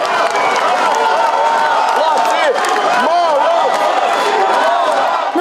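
A large crowd of activists inside a regional administration building cheers, whistles and claps loudly as police officers leave, with shouts and voices mixed into a dense, continuous roar close by.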